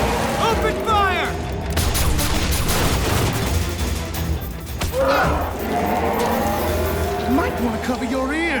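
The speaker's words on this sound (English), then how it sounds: "Open fire!" A cartoon battle from G.I. Joe Renegades erupts in a dense, loud volley of gunfire and booms. The rattle of shots overlaps with shouted dialogue and action music throughout.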